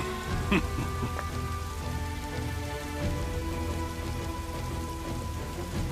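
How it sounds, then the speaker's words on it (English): Steady rain pouring in the video game Dynasty Warriors 8, a constant dense hiss over a low rumble, with a faint brief knock early on and no talk. "This never-ending rain, too."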